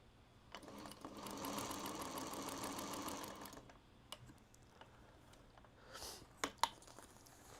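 A sewing machine runs in a steady continuous stitching burst for about three seconds, followed by scattered clicks and small handling knocks, close and fairly quiet with no talking.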